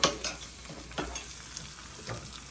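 Hot tempering poured into broccoli dal gives a quiet, short sizzle, broken by a few soft scraping strokes.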